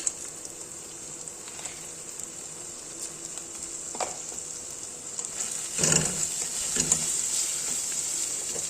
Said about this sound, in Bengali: তারপরে এই কুচানো পেঁয়াজ আর টমেটো এটাকে একটু নেড়ে ছেড়ে নেবে